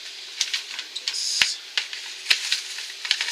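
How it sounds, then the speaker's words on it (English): A kettle boils in the background indoors, giving a steady faint hiss broken by scattered soft clicks and ticks. "someone's boiling a kettle"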